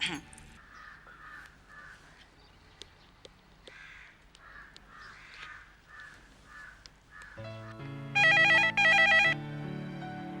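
Quiet talking, then a telephone rings twice in bright, shrill electronic bursts near the end, clearly louder than the voices.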